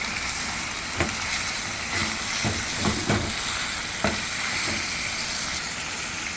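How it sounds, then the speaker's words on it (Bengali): Marinated chicken frying in a pan for chicken curry, stirred with a utensil: steady close sizzle and hiss with sharp scraping clicks of the spoon at irregular intervals. "এটাকে একটু ভালো করে নাড়িয়ে মশলা যাতে সবখানে ঢুকে যায়"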